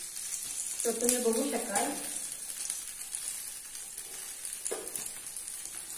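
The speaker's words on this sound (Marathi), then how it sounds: "तर आता तो दुसऱ्या साईडने मी आता परतून घेते। जरास तेल सोडून घेते" A sweet fasting dosa pancake sizzling in oil as its second side fries, a soft steady hiss beneath a voice speaking briefly.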